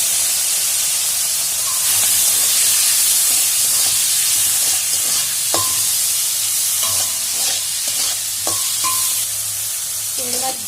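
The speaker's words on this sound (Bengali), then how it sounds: "এই চিংড়ি মাছগুলো নুন হলুদ মাখিয়ে রেখেছি, এবার ভেজে নেব।" Salt-and-turmeric marinated shrimp fry in hot oil with a steady, close, loud sizzle, joined by intermittent scraping and clinking of a spatula stirring against the pan.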